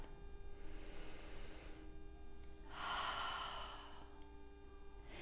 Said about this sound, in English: Take one more round of breath.